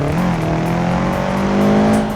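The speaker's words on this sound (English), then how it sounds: "Just listen to this exhaust." In the BeamNG driving game, a modded first-generation Subaru Impreza WRX set up for rallying holds a loud, steady exhaust drone with a rising engine pitch, close and unbroken.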